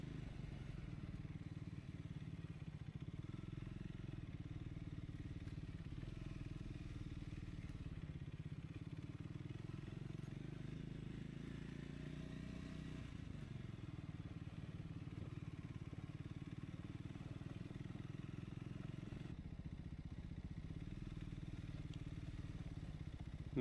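Triumph Scrambler 400X motorcycle riding an off-road trail, its engine a steady low drone throughout with occasional clatter and thumps from the rough ground, no speech.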